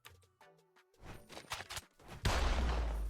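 Gun attack effect for the anime-style character Kurumi (Zafkiel) in a video game: a few short chiming tones, then a rapid burst of shots that swells into a loud sustained blast of effects at the end.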